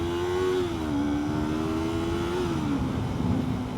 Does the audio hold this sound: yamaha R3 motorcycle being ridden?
yes